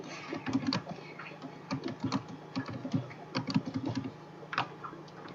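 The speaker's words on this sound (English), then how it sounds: "I'm typing." Keys on a computer keyboard clatter in quick irregular bursts, close and alone over a faint steady hum.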